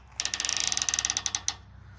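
Openroad 270 awning rope lock ratcheting as the rope is pulled through, a rapid run of about two dozen crisp metallic clicks, close and distinct, slowing slightly before stopping.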